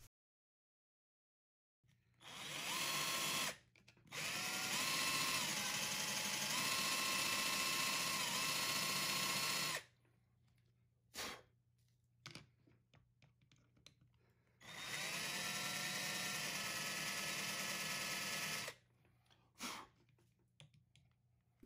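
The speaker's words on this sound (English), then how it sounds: "I figured it might be easier to try to drill the studs out from the top" A drill bit bores out the heatsink studs on an AtGames Legends Ultimate arcade mainboard, sounding as two long, steady, loud grinding runs separated by short stops and brief bursts.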